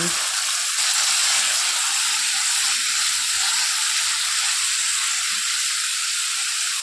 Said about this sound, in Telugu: ఇప్పుడు కొంచెం పన్నీర్ని లైట్గా ఫ్రై చేయాలండి